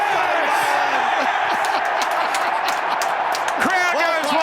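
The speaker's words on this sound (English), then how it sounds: "Crowd goes wild." A cricket crowd roars and cheers after the match-winning runs, a loud continuous wall of whoops and shouting that stays dense for the full few seconds.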